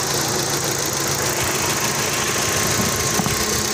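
A refreshed engine in a 2012 Toyota Vios runs steadily at idle, a loud, even mechanical drone with a faint knocking texture, heard close up with no speech.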